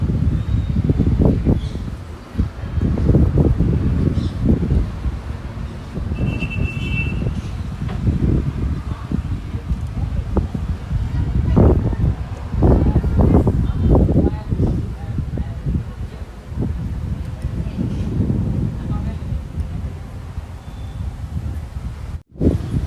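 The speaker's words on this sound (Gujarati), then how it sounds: "હવા બહુ આવે છે" Strong wind gusts buffet the microphone at a hilltop temple, a continuous low rumbling roar that swells and fades, with a person talking faintly underneath.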